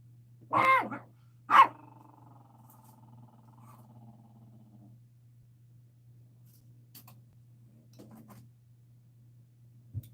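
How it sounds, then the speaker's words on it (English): A small 10-pound dog gives two sharp close barks, then a low growl trails off into quiet, while a steady low hum runs underneath and a faint thump comes near the end. "my little fierce 10-pound dog was making all that noise"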